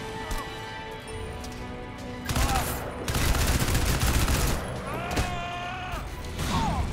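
Bursts of gunfire in the video game Crysis 2, a rapid volley of shots in the middle followed by a shorter burst, set against quieter game ambience and effects.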